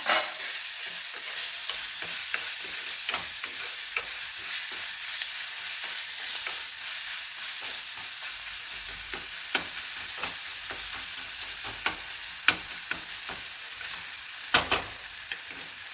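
Ingredients for a prawn curry sauté in a hot pan, with a steady close sizzle broken by repeated scraping and clicking strokes of a stirring spoon; no one talks.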